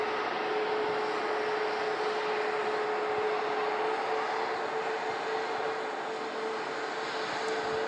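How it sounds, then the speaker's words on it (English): A Norse UK Boeing 787-9 Dreamliner at Manchester Airport gives off a steady, broad engine roar with a faint constant whine, holding an even loudness throughout with no voices. "about to come into view is the beautiful Norse UK 787-9"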